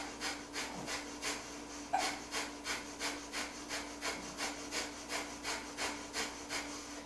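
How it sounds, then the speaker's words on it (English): Sharp, forceful Kapalabhati yoga exhales puff out in a steady, quick rhythm, about two per second, close and clear over a faint steady hum. "Kapalabhati. So you're driving and your stomach has a sharp exhale."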